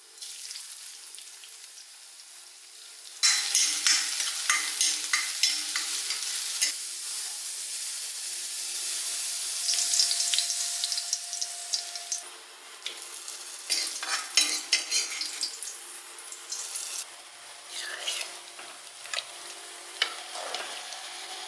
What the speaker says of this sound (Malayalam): ഇതാ കറിവേപ്പില ഇനി നമുക്കിതാ വെളിച്ചെണ്ണയിൽ വഴറ്റിയിടാണ്ട് അത് ചെറിയ ഉള്ളി അതാണ് വഴറ്റിയിടാണ്ട്